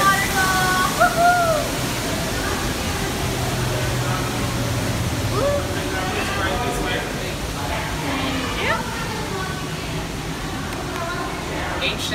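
A waterfall rushes steadily in the Avatar Flight of Passage queue, a continuous broadband hiss that runs throughout, with people talking faintly over it.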